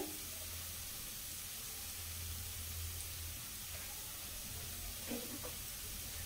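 Spices such as turmeric, chili and coriander powder frying with potatoes for sagu upama give a soft, steady, faint sizzle throughout, with a few light clinks near the end.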